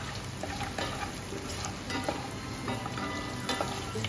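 Cashews, peanuts, dried and green chillies stirred while frying in a pan over a medium flame, a loud continuous sizzle with soft scraping strokes and occasional crackles, close by.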